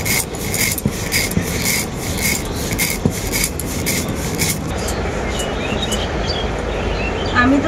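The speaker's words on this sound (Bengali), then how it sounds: "আমি তো সরষেগুলো শিলনোড়াতে গুঁড়ো করে নিচ্ছি" Mustard seeds ground by hand on a traditional stone grinding slab (shil-nora) for homemade mango kasundi, a steady rasping, scraping rub in rapid repeated strokes, close and fairly loud throughout with no talking.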